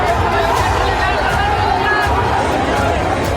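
A crowd of protesters in Bangladesh, a dense chattering hubbub of many voices blended into continuous loud babble, with no single voice standing out.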